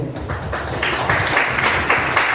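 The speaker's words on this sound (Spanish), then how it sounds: "Un aplauso" An audience at a pediatrics society lecture on rickets and vitamin D deficiency applauds after the talk, a dense, steady wash of clapping that builds slightly and carries on without pause.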